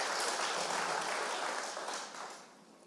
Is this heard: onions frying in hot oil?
no